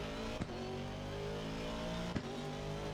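A car engine drones steadily while driving, a continuous close rumble with a couple of brief mechanical clunks.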